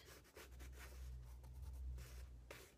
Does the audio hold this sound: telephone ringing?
no